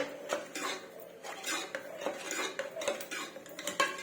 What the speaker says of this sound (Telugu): పప్పు ఉడికిపోయింది ఇలా కలుపుకుందాం